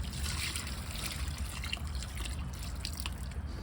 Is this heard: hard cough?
no